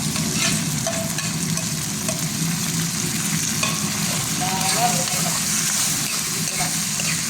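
Curry leaves and chopped tomatoes frying in a pan give off a steady, dense sizzle with stirring scrapes, close and continuous throughout, with no talking.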